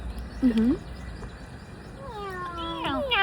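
A human voice imitates a cat with a short meow, then a longer series of whiny meowing calls, close and fairly clear over quiet background noise.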